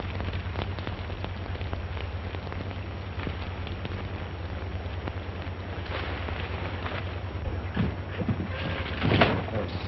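Steady rain falls throughout, a dense even patter with a low continuous rumble beneath and a slightly louder splash near the end; no voices.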